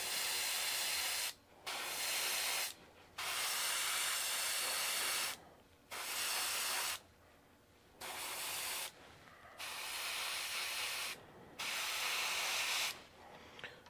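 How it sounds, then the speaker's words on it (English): An airbrush sprays paint onto a model bucket truck in several steady, soft hissing bursts, each lasting a second or two and separated by short silent gaps, quiet and close. "And go back to the airbrush again"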